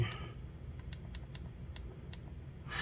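The buttons of an RG35XXSP handheld game console click quickly and sharply, a run of close, crisp presses spaced irregularly, with faint background noise and no talking.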